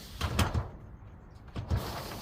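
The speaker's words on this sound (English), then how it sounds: "retractable sliding door" Retractable sliding door on a Sprinter van conversion, heard as two quick rolling, thudding slides about a second apart, close and moderately loud.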